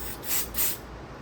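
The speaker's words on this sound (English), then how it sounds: "Spray the plug." Two short hissing bursts from a spray bottle of cleaner onto an electrical plug of an old GM truck wiring harness, close and quick, one after the other.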